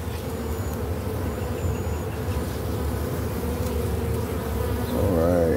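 Honeybees drone loudly and continuously inside an opened hive, a dense close buzz with no pauses, swelling slightly toward the end.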